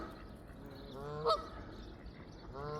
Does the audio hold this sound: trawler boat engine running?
no